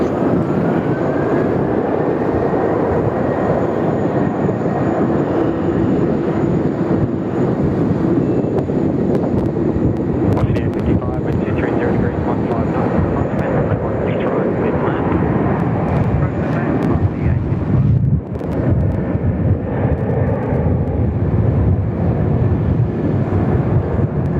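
Jet airliner engines roar continuously for takeoff on runway 16 right at Sydney Airport, a dense broad rumble blurred by westerly wind buffeting the microphone.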